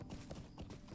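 Horse hooves clip-clop quickly and faintly in a video game, a busy patter of soft hoof beats over a low background.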